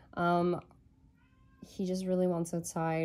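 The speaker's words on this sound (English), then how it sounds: "I apologize for my cat, guys." A pet cat meows loudly and insistently to be let outside: one drawn-out meow, then a longer run of cries close to the mic, with a person speaking briefly in between.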